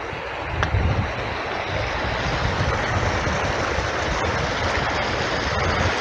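The River Derwent rushes steadily in the Peak District, a broad, constant wash of water noise mixed with gusty wind buffeting the microphone.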